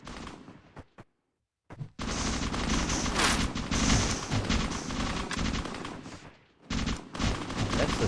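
Rapid bursts of gunfire from a sniper rifle and other weapons in a competitive 2v2 tournament match of a shooter game, loud and dense with a brief silent gap, then continuing under faint game chatter.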